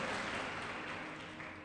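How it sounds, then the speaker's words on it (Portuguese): Church congregation applauding during a Portuguese-language Sunday service, a dense, steady wash of many hands clapping together, sustained and fairly loud throughout. "Quem pode aplaudir Jesus?"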